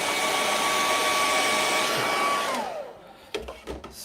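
Hair dryer blowing over a freshly painted moonlit mountain scene, a steady loud whooshing whine that winds down and cuts off, followed by a few faint handling clicks.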